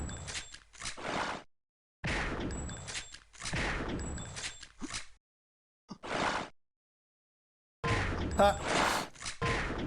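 A Sauerbraten instagib duel fires rapid gunshots, heard as sharp bursts in several clusters with silent gaps between them. Someone shouts briefly during the shooting.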